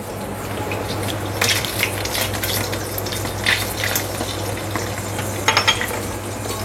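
Cinnamon and cloves frying in hot oil for a chicken curry, giving a continuous close sizzle with a steady low hum underneath and a few brief louder crackles.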